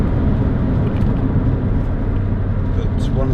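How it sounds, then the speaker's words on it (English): Steady low engine drone from a 2006 Toyota MR2 1.8 VVT-i roadster with a canvas soft top, heard from inside the cabin while driving, blended with continuous wind rush. "but one of the byproducts is you also hear the engine noise."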